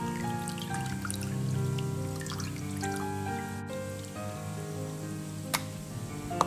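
Water drips and trickles from squeezed, rinsed slices of meat, with soft scattered drops and a few sharper splashes over a quiet kitchen background, with no talking.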